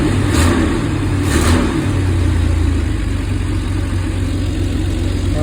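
A 1995 Chevy G20 van's 4.3 V6 runs after distributor parts were replaced, idling smoothly and close with a steady low rumble and two brief revs near the start, no voices.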